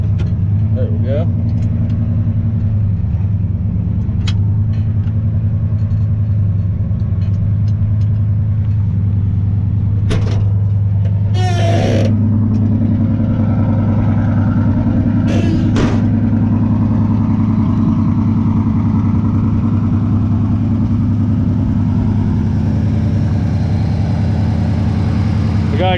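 An old shop truck with a 4-speed and no brakes idles after an engine swap, a loud, close, steady low rumble that runs throughout, with a few clanks and occasional talk over it.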